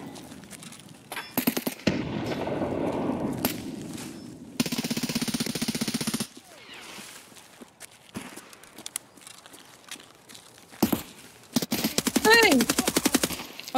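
Bursts of automatic gunfire crack in Escape from Tarkov, several sharp rapid volleys separated by quieter stretches with shuffling movement, some near and loud, others further off, with a voice talking now and then.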